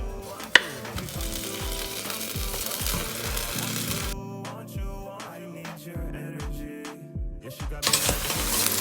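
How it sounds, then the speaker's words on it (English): Shallots and eggplant sweat in a pot, giving a steady low sizzle broken by frequent clinks and scrapes of a utensil stirring against the pot, with one sharp knock near the start. "now we're gonna add the eggplant to that pot. So as you can see, they're sweating."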